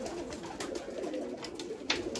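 Domestic pigeons kept for sale, cooing softly and repeatedly in a quiet setting, low and faint.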